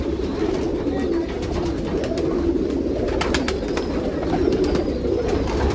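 Domestic desi pigeons coo at close range in a loft in Nashik, Maharashtra, soft repeated cooing over a steady background of ambient noise.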